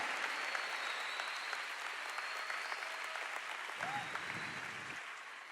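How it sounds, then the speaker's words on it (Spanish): A church congregation applauding during a sermon, a dense sustained roar of many hands clapping that fills the space from start to finish, with a brief low voice murmuring underneath near the end. "¿Cuántos pueden aplaudir al Señor"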